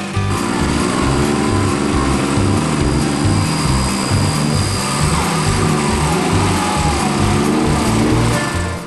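A 4WD engine drones loud and steady as the vehicle labours up a slippery, muddy off-camber track, its tyres clogging with mud; a constant close rumble with a rhythmic low pulsing and no talk.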